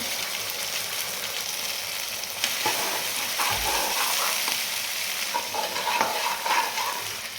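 Kolhapuri masala with red chillies and turmeric roasting in a pan, a steady sizzle with intermittent spoon scrapes and stirring clatter, close and fairly loud with no talk.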